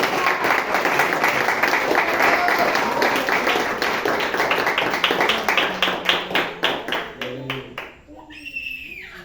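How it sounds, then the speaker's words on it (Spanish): Congregation in a church applauding together, a dense wash of clapping that holds steady before breaking into scattered, rhythmic claps and fading, with voices audible underneath. "Si le va a aplaudir, aplaudan al Señor."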